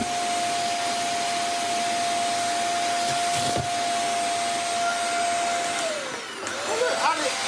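A corded vacuum cleaner with its hose locked in place runs as a loud, constant whine with a steady high tone. Near the end the tone drops away as the motor changes pitch, and there are brief knocks and handling noises.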